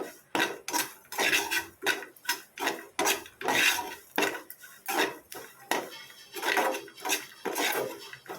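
A spoon repeatedly scrapes and knocks through bitter gourd fry in a pan, about half a kilo of it, in a rhythmic series of close, gritty strokes roughly twice per second.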